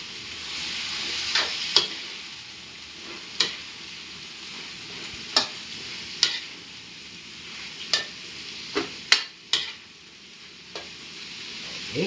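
A spoon stirs corned beef in a sizzling pan for string beans with corned beef, scraping and clicking about once a second over a steady frying hiss.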